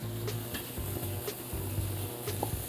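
Beef seared in a pan for stew, seasoned with a curry mix, sizzles steadily up close with occasional stirring scrapes. No voices are heard.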